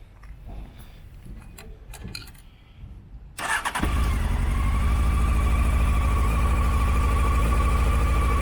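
Honda CBF600S motorcycle started from cold with the choke on: a quiet lull of faint rustling, then the engine catches at once and settles into a loud, steady, fast idle right up close with no talk.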